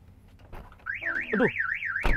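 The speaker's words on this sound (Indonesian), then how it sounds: "punya alarm bos" A car alarm starts up with a loud, warbling siren that rises and falls steadily, preceded by a few thumps and clicks.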